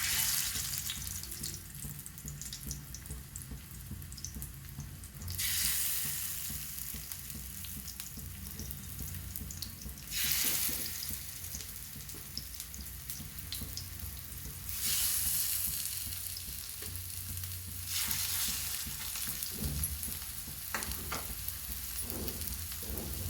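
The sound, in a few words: fish pieces frying in hot oil in a pan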